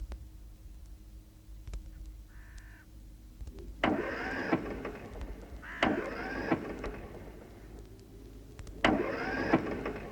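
A truck engine in a radio drama sound effect cranks and fails to start, with three separate grinding bursts of cranking spaced across the clip against a quiet background.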